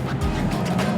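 Cars drifting at a car meet make a dense, continuous engine roar with a tire-squeal edge, close and loud with no talk.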